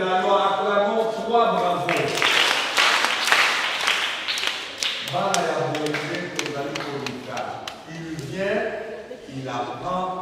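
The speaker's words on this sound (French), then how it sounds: "Les docteurs de la loi, acclamons 3 bravos." An audience at a children's Bible holiday school claps rhythmic bravos, quick bursts of hand claps mixed with loud group chanting and voices, close and lively throughout.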